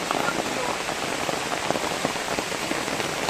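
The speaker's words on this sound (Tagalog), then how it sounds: "kahit malakas ang ulan" Heavy rain pours down in a dense, continuous hiss with scattered louder drops splashing nearby, and a voice is faintly audible underneath.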